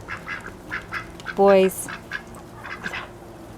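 Ducks quack loudly in a short burst near the middle, standing out over a person talking and faint background bird calls.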